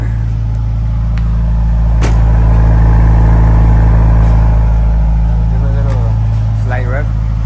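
A Subaru WRX with a catless J-pipe exhaust idles with a loud, steady low rumble, swelling briefly in a slight rev mid-clip before settling back, with people talking over it.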